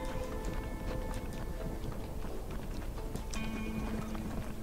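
Horse hooves in the Red Dead Redemption video game clatter in a brisk, uneven run over a background of game ambience, moderately loud and alone without speech.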